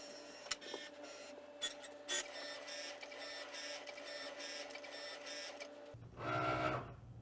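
A Cricut machine runs an engraving tool over natural veg tan leather, giving a steady, faint whirring hum with rhythmic pulsing clicks of the moving carriage, then a louder whirring burst near the end.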